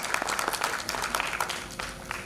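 An audience at a mobile app launch ceremony claps loudly and continuously, a close, dense burst of applause with rapid irregular hand strikes.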